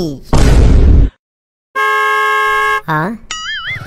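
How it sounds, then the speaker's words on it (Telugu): Loud vehicle horn blasts with sustained tones, preceded by a burst of noise and followed by wavering, warbling horn or siren-like tones. "హార్న్ కొట్టి డిస్టర్బ్ చేసేది ఎవడరా"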